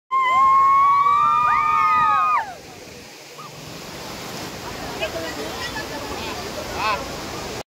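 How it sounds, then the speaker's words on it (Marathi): Amboli waterfall in the misty Konkan hills: after a few seconds of a voice speaking, a broad, steady roar of falling water fills the rest, heard from a moderate distance with some wind noise. "और ये देखो गाइस आंबोली धबधबा."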